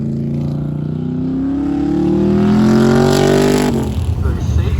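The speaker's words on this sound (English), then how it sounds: "Oh, car just came out on track. It is the C3 Corvette." A C3 Corvette engine revs up steadily on a race track, rising in pitch as it accelerates nearby, then drops off abruptly with a rough idle rumble.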